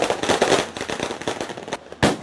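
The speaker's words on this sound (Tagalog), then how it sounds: "Halos yumanig ang paligid sa dami ng paputok na isinalubong ng mga taga-Tondo sa Maynila ngayong bagong taon." New Year firecrackers exploding in Tondo, Manila: dense, rapid volleys of loud cracking bangs rattle on continuously, ending in one sharp close blast after a brief lull.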